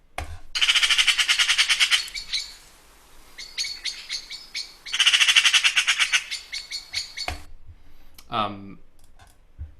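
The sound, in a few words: magpie calling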